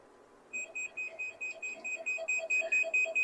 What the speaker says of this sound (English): So you get an alarm.